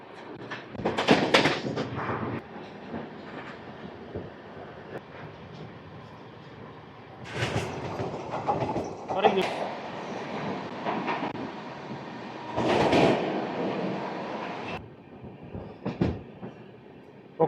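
The 20811 Visakhapatnam–Nanded Super Fast Express runs along the tracks near the Godavari River, a steady rumble and clatter broken by several louder rushing bursts, with no talking.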